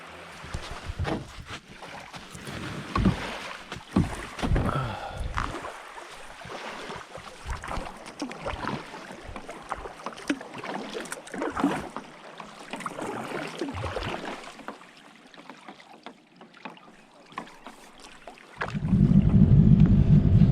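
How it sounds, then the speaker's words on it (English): Kayak paddle strokes and water splashes with wind buffeting the microphone, on a bay in Baja California, ending in a loud low rumble like a motor starting close by. "she's going to loan me her kayak and I'm going to go out, paddle and get the boat"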